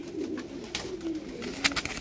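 Andhra pigeons coo in a low, soft, throaty murmur, close by, with faint rustling and a few brief sharper noises toward the end.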